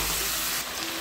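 Marinated mutton, salted, sizzles and hisses steadily as it is stir-fried and browned in a pan, a brief, close, continuous frying sound.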